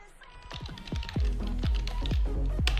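Quick irregular taps on a computer keyboard as a name is typed for a Windows 10 restore point, close and fairly soft, with a few sharper key strikes near the end.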